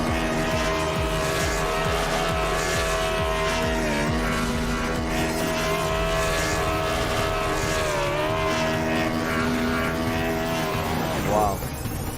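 Several NASCAR stock car engines in iRacing at a superspeedway drone loudly and continuously, with steady harmonic whine shifting pitch as cars pass, and a brief tire-squeal burst near the end, under commentator talk.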